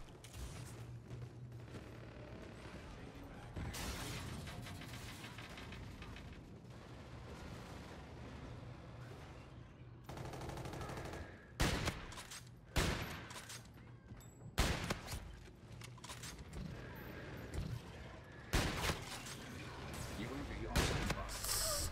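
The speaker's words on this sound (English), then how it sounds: "I'm gonna shoot these dudes in the back" Gunfire in Call of Duty: Infinite Warfare, with a TF-141 sniper rifle in play, comes as bursts of loud, sharp shots through the second half over a steady game rumble, while a player talks throughout.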